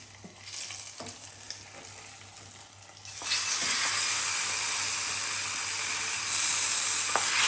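Quiet kitchen clinks, then a sudden loud sizzle as tempering hits hot oil for gongura chutney with fenugreek, crackling and hissing steadily until the end.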